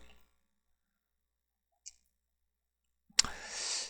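A single faint computer mouse click pressing a save button, heard as a short tick in near silence, followed by a sharper click and a brief hiss of noise.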